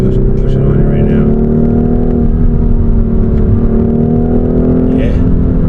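A BMW 430i xDrive engine pulls hard under heavy throttle, a loud, steady rising drone with strong low harmonics heard from inside the cabin, with a driver talking over it.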